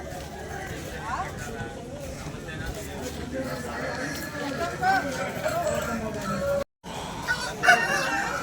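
Native country roosters at a Sunday poultry market in Vijayawada, with crowing calls over busy crowd noise and nearby talking voices throughout.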